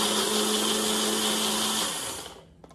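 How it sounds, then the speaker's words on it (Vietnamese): A Magic Bullet blender purées kimchi seasoning with fish sauce in a loud, steady whir that runs nearly three seconds before spinning down and cutting off. "Mình sẽ xay nhuyễn nó ra nha các bạn."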